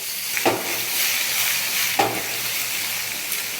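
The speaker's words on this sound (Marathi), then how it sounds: "तर बघा, तेल आता मस्त गरम झालं आहे। आता त्याच्यामध्ये हे बटाटे टाकायचे।" Potatoes dropped into hot oil fry over high heat, producing a continuous close sizzle with a couple of sharper spatters and bursts as pieces hit the pan.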